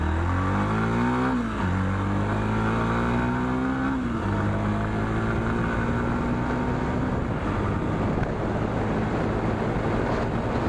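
A Yamaha FZ-S Hybrid motorcycle engine drones steadily and loudly, its pitch rising and shifting as the throttle is opened, with no voices.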